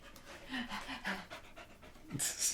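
A pet puppy indoors at home pants close by in quick, rhythmic breaths, with a brief higher whine or squeak near the end.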